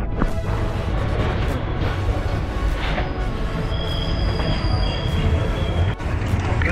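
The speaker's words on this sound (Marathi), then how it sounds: "जस्ट ट्रेन थांबलेली आता इथं." A train pulls into a station in Kerala: a loud, continuous rolling rumble with high metallic wheel squeals as it brakes, close by and alone.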